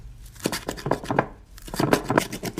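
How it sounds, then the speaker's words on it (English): A knife chops a large handful of fresh cilantro on a board in quick, close, crisp repeated strokes, two clusters of rapid cuts separated by a brief pause, with no talking. "Chop this up."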